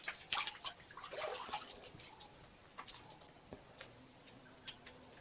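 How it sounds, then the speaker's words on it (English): Spring water running out of a cave near a temple in Ahobilam, South India, heard as quiet drips and light patter, faint and intermittent against a soft background hiss, with no voices. "And there's water streaming out of there."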